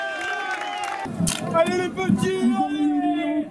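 A riverside crowd at a bathtub race launch cheers and claps for a water-jousting society team, a steady busy roar under a loud voice calling out encouragement, with a brief shout standing out near the middle.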